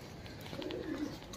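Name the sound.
Kalmuhe pigeons cooing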